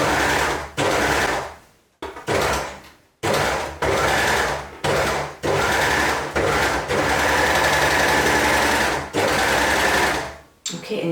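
Four-thread overlocker serger stitching and trimming a fabric edge, a loud rapid mechanical whirr running in bursts that start and stop several times, then one long continuous run.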